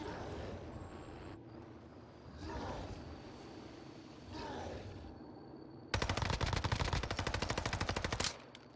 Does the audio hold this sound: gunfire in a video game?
yes